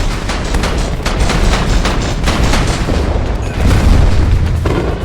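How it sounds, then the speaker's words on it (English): Rocket launcher shots in the VR shooter Plastic Battlegrounds fire again and again with no reload pauses, loud booming blasts one after another and a rumbling low end throughout. "Using a rocket launcher just feels like a hack too, with no reloading, and you can shoot it every 2 or 3 seconds"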